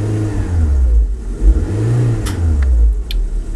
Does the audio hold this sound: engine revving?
yes